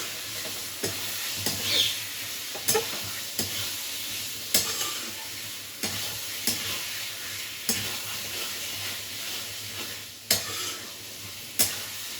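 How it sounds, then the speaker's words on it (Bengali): Steady sizzling of food frying in a pan, with light scraping stirs every second or two, close by and without any talking. "ততক্ষণ এটা ভাজা হোক"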